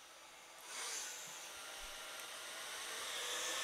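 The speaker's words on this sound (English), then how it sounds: "I turned it down to medium heat, and now the fan's kicked on again" An electric heater's fan, powered by an EcoFlow River Pro, kicks on with a soft click and settles into a steady, faint airy whoosh that continues evenly to the end, with no talking.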